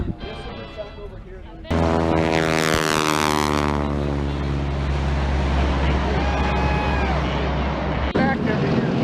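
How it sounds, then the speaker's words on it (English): An OV-10 Bronco, a Vietnam-era twin-propeller observation and spotter plane, roars past at an airshow. The loud, droning propeller engine sound starts suddenly, sweeps down in pitch as the plane passes, then holds steady over crowd noise. "Here's the OB-10 Bronco, the AirCal spotter plane."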